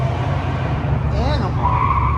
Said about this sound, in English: Rally car.